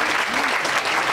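A crowd applauds the captain of the winning second-year engineering football team at a college prize-giving in Noshki, with dense, steady clapping that fills the whole moment.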